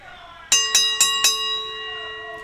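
Wrestling ring bell at a match, rung four times in quick even succession, each strike loud and bright with a long ringing tone that fades after the last hit.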